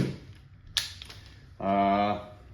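A Valken M17 less-lethal launcher running on CO2 fires a single sharp, close pop, followed moments later by a brief buzzing tone over quiet background.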